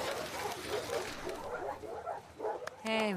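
Dog barking and yipping in the video game The Last of Us Part II, a few short barks scattered over faint background sound, ending in a clear whimpering yelp.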